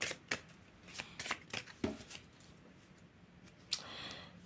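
Oracle cards being shuffled during a tarot reading: a quick run of crisp riffling flicks and soft slaps, clustered then sparse, close and fairly quiet, with no talking.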